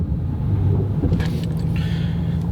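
A 2020 Ford Mustang GT500 rolls to a stop, its engine note low and rumbling inside the cabin as it steps down through gears, with a steady droning hum and a few faint clicks and rattles.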